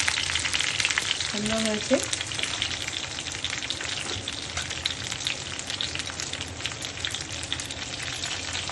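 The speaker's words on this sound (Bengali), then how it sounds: "তেলের মধ্যে দিয়েছি তোমার শুকনো লঙ্কা, জিরে, গরম মশলা, ফোড়ন।" Dried red chillies, cumin and garam masala crackle and hiss continuously in hot oil, a busy close-up frying sound that runs throughout, with a brief spoken remark early on.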